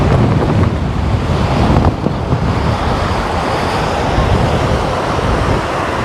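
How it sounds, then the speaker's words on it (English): Strong wind buffets the microphone with loud, continuous gusty rumble, steady throughout with no voices. "Yeah, really strong wind."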